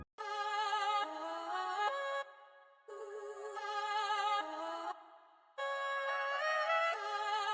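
Chopped-up Cymatics vocal chop loop, bright pitched vocal stabs in short rhythmic segments broken by brief gaps, with wavering sustained notes and upward slides, heard cleanly with no talking.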